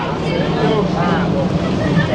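Thai river boat at Tha Maharaj pier on the Chao Phraya, two boats tied together, with a steady engine rumble and water wash close by under continuous background chatter.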